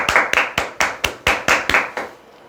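Eight or nine sharp, evenly spaced claps ring out over about two seconds at a lecture on insurance telemarketing, then stop, leaving a quiet room with no talking.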